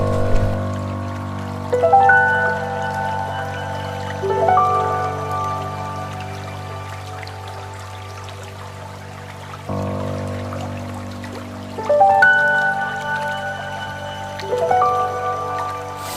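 Water flows and trickles steadily at Shoilo Propat waterfall in the Bandarban hills, a constant wash of moderate loudness running the full length under sustained tonal music.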